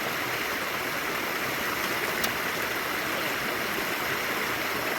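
Water rushes steadily through a gold mining sluice box outdoors, a dense, unbroken close-up wash with no pauses or voices.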